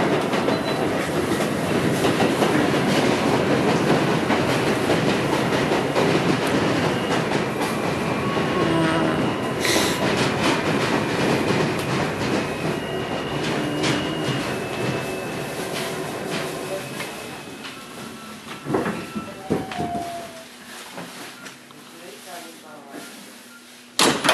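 A New York City subway F local train rumbles loudly along the tracks with rhythmic clatter, squealing and slowing toward the end as it comes to a stop; an announcement plays over it.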